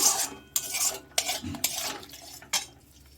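Spice paste for a cauliflower roast stirred in a pan, with repeated scraping strokes of a spoon against metal over a soft sizzle, close and fairly loud in irregular bursts.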